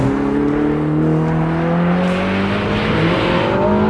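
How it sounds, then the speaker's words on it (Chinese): A Ferrari SF90XX engine revs hard toward 8000 rpm on a race track, a loud continuous rising howl heard from inside the car with tire and wind roar beneath. "直接去到8000转，声音太棒了"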